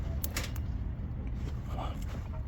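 Low creaking, grinding scrape of a tire plug insertion tool being pulled out of a large tire, a few sharp squeaks over a steady rough rumble, close and moderately loud, with no talk.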